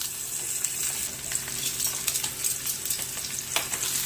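Pork shoulder sears in a hot pan before slow cooking, giving a steady, close, crackling sizzle with dense spattering pops that continues throughout without any talking.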